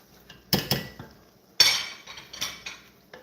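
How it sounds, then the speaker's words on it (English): A metal spoon scrapes and clinks against a pot of homemade chicken chili with browned ground meat, a few sharp knocks followed by a cluster of quicker scraping taps, close and alone without talk. "we just stir it up a little bit, get some of that flavor off the bottom"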